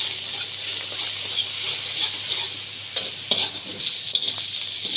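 Ground green chilli and coriander frying in a karahi for chilli garlic chicken, a bright continuous close sizzle broken by scraping stirs and small pops.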